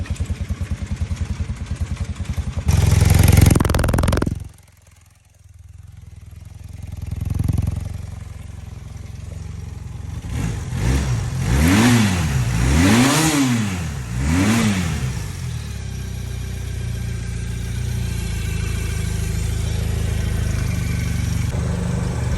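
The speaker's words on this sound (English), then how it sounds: "Let's adjust this idle a little bit. See the difference?" An old Honda Quicksilver motorcycle engine, revived after sitting for 37 years, idling loudly and close, dipping briefly, then revving up and down in several swells as the idle is adjusted before settling to a steady run.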